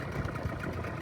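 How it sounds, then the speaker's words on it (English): A dinghy's outboard engine idles on the water, a steady close low chugging hum with no speech. "We're just going for a dinghy ride."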